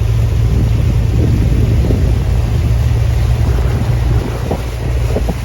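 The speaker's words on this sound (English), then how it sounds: "So the boat we're on is not too loud." A river tour boat engine drones in a low, steady rumble close by on a river in Ayutthaya, Thailand, with wind buffeting the microphone throughout.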